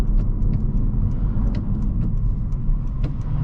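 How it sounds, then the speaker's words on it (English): Steady, fairly loud road and wind roar inside a moving 11th-gen Honda Civic hatchback while it tows a load, a continuous low rumble with faint intermittent ticks over it and no speech. "Probably getting a bunch of wind noise."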